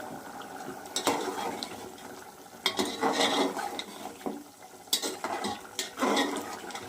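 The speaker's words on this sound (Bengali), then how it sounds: "দেখুন বন্ধুরা, মাংসটা ফুটছে" A pot of goat meat curry simmers on the stove, its soft bubbling broken by bursts of clattering and scraping as the pot is stirred, close and without voices.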